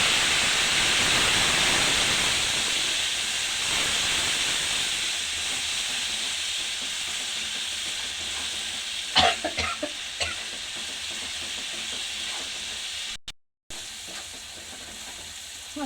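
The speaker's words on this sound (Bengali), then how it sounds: "গরম মশলার গুঁড়ো, একটু জল দিয়ে কষিয়ে নেব।" Masala with garam masala powder and a splash of water sautés in a hot pan, a loud steady sizzle and hiss with spoon scrapes and stirring clatters partway through, easing slightly over time.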